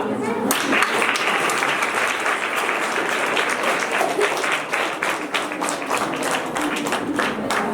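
Children applauding at a National Association for the Blind event, a steady burst of many hands clapping close by, sustained and even, with a voice talking over it.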